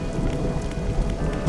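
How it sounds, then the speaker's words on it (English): Rain falls steadily while low rumbling thunder rolls through a stormy scene in the fishing game DREDGE, a dense, continuous wash of sound with no voices. "It's like actually thundering."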